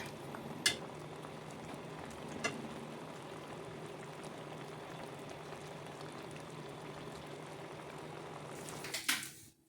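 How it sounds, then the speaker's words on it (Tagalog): Malunggay and squash soup, sweetened with pineapple, boils steadily in a pot, a continuous low bubbling with a couple of faint utensil clinks near the start and a brief clatter at the end. "yan ang kumukulo na po"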